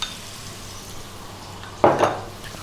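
Chopped onion and carrot sticks tipped into a hot pan with ginger, a brief clatter and sizzle burst near the end after quiet room tone.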